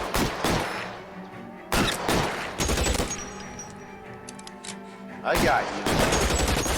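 Gunfire from a shotgun-like weapon in the video game LA Noire: several heavy bursts boom out over a few seconds, with loud rolling echoes and a voice talking briefly.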